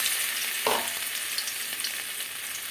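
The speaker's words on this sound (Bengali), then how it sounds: "তেলটা গরম হয়ে গেছে, মাছের তেলটা বড়াটা ভেজে নেবো।" Fish-oil fritters made with gram and rice flour fry in hot oil, a close, steady sizzle with a sudden burst of spattering early on as batter hits the oil, then continuous crackling with no voices.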